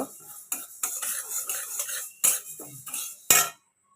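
Mung dal dry-fries in a pan while being stirred, giving a series of close scraping and clinking strokes of a utensil against metal, with short pauses between them.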